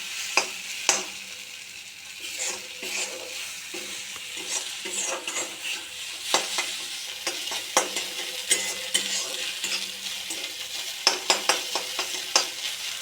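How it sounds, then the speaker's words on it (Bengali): An egg fries and is stirred in a hot pan: a continuous close sizzle with repeated sharp spatula scrapes and clicks against the pan, alone with no voices. "এবার এই ডিমটা ফাটিয়ে আমি দিয়ে দেবো। দেওয়ার পর আমি তোমাদের দেখাবো। দেখো বন্ধুরা, ডিমটা দিয়ে দিয়েছি। এবার এটাকে আমি ভেজে নেব।"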